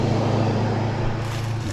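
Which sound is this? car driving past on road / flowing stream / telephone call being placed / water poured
car driving past on road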